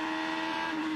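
IndyCar race cars roar by at Infineon Raceway in a loud, sustained high-pitched engine whine that stays at a steady pitch and fills the moment without speech.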